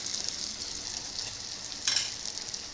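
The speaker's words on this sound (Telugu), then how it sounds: "ఇప్పుడు ఆకుకూర వేసుకుందాం." Tella galijeru leafy greens frying in a pan with softened onions, a steady broadband sizzle with a brief louder burst near the end, no voices.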